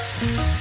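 Eggplant being sautéed in a pan for a Filipino vegetable guisado, giving a short burst of steady sizzling and frying hiss with a faint low stirring rumble, close and fairly loud.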